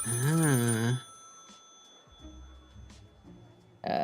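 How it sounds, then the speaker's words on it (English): A telephone in the video game Lil' Guardsman rings with a warbling electronic trill, one loud burst lasting about a second, followed by quieter game sounds and faint speech, then another ring starting at the end. "I will pick up the phone."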